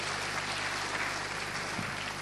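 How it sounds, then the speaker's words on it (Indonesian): Church congregation applauding together, a steady broad wash of clapping that fills the whole moment at moderate level, with no speech over it. "Tepuk tangannya paling meriah buat Yesus Kristus."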